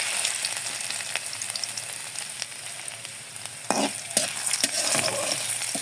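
Garlic and black cumin fry in hot oil with a steady, close sizzle, while a utensil stirs them in a few louder scraping bursts near the end.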